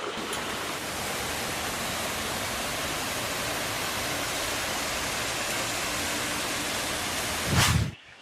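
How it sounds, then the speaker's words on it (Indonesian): Strong river current rushing from a dammed stream at Nunuk Eco Park in Subang, West Java, a loud steady roar of churning water throughout, with a brief louder thump near the end. "supaya dia menghasilkan aliran sungai yang lumayan cukup deras"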